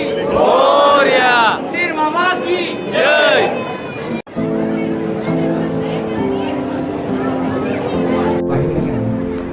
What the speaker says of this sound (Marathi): खूप सारी गर्दीसुद्धा आहे आणि खूप सारे पब्लिकसुद्धा आलेले आहे